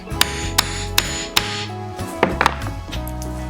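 A hammer whacks a button into place, four evenly spaced sharp strikes followed by a quick cluster of lighter taps, close and clear over faint background music.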